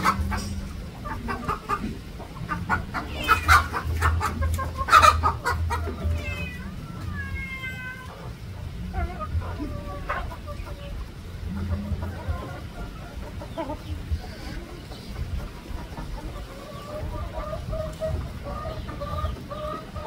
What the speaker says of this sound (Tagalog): Tingnan nyo guys yung native chicken guys,